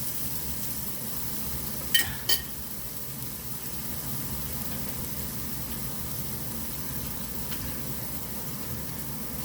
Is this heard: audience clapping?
no